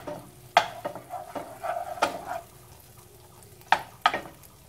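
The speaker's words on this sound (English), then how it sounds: "onto a pan, I will add the butter, 2 tablespoons of butter, and let it melt." About two tablespoons of butter melting in a pan give a soft, fairly faint sizzle, broken by a few sharp clinks and scrapes of a utensil against the pan.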